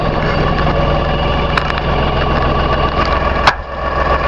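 LS XR 3135H tractor engine idling close by, a loud steady low diesel chug with constant vibration and a brief clunk near the end.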